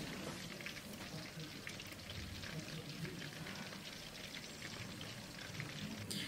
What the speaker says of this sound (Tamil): அப்புறம் ஒரு எலுமிச்சப்பழ ஜூஸு